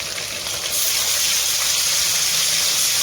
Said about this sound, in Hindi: इनको भी हम ऑयल में फ्राई कर लेंगे